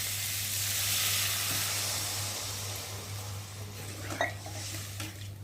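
Spice paste for a parshe fish curry frying in oil with a steady, loud sizzle throughout, joined near the end by a few brief utensil clinks against the pan.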